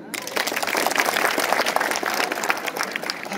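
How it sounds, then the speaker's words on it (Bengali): A crowd of students and staff claps at a school gathering honouring state-meet medal winners: a dense, continuous burst of applause that holds at an even loudness throughout. "একটা হাততালি"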